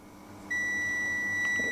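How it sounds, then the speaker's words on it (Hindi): A Bluetooth digital multimeter's buzzer gives one steady electronic beep that starts abruptly and holds without a break, loud and close against a faint background hum. "जिसमें ये बजर बजा देंगे"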